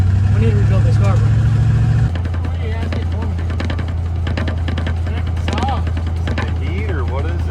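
A Plymouth SUV's carbureted engine runs steadily up close with a low, droning rumble that drops in pitch after a couple of seconds, while voices talk over it intermittently.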